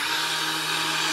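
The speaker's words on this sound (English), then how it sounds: "we're going to take the stick blender" A stick blender whirs steadily as it mixes a batch of goat milk soap, a loud continuous motor whine with no pauses or talking.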